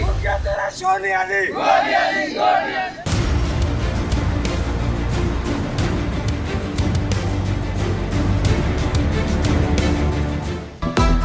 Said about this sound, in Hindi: पीडीएम की जानिब से एम्प्रेस मार्केट पर एहतजाजी मुजाहिरा।